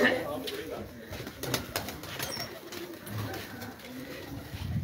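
Three tippler pigeons cooing softly in a loft after a tournament flight, low murmuring coos under steady background noise, with a person talking at times.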